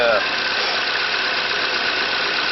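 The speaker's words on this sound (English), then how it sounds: "I've got the engine running" A 2016 Chevrolet Sonic engine idles after its thermostat and heater were replaced, giving a steady, close mechanical hum with a brief higher whine at the start.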